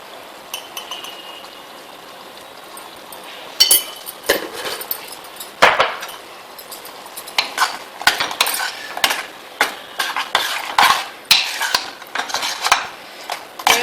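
Prawns stirred with raw mango, salt and chilli powder in a metal pan, a steady run of sharp spoon scrapes and clanks against the pan, close and loud, some strokes in quick bursts.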